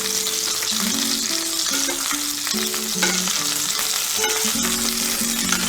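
Salmon fries skin side down in a pan, crackling and sizzling steadily in hot fat while it is basted, the sizzle close and continuous with no talking, and a melodic tone runs underneath.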